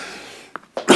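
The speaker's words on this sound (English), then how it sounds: "This will probably be the start of it again, where I start coughing for Ireland." A person coughs: a couple of short, close bursts ending in a louder, harsher cough.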